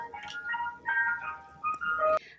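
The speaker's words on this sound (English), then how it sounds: "Oh my god, this freaking ice cream truck." An ice cream truck plays its melodic jingle outdoors, a clear tinkling tune with sustained musical notes that rises and falls in phrases, fairly loud and heard alone.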